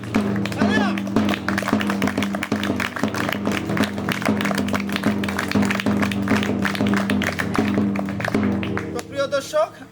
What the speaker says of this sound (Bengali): একবার জোরদার তালিয়া।